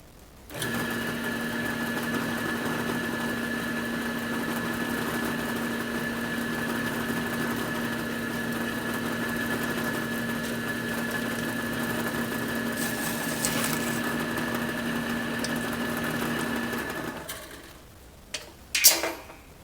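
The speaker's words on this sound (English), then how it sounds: "I'm going to try to punch a slug out of a piece of aluminum with the hole saw" A hole saw bores a slug out of a piece of aluminum, a steady loud whining drone held for about seventeen seconds before the cut ends and a couple of sharp knocks follow.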